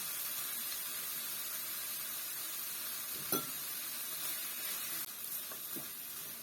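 Young green jackfruit curry with fried shallots and tomato stir-fried in a pan for a Northern Thai dish, a continuous close sizzle and hiss with a few scraping stirs of the spatula.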